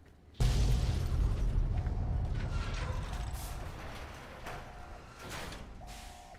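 Explosions in the Fallout: New Vegas game: one sudden loud boom sets off a heavy, rumbling blast that slowly decays, with scattered mechanical clanks and brief tonal game cues over it.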